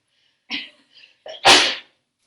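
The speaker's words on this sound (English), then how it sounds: "I'm going to sneeze." A single loud sneeze, preceded by a couple of quick sharp breaths, close to the microphone.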